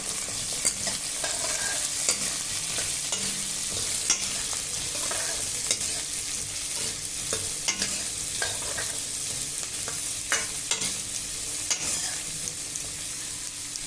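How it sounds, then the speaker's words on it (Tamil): One large cut onion and six garlic cloves sauté in a pan for Chettinad pumpkin kara kuzhambu, giving a constant close sizzle broken by frequent light scrapes and taps of a spatula stirring, with no voices. "ஒரு பெரிய வெங்காயம் கட் பண்ணி வச்சுருக்கேன் அதை சேர்த்துக்கலாம் ஆறு பல் பூண்டு எடுத்திருக்கேன் அதையும் சேர்த்துக்கலாம் வதக்கிக்கலாம்"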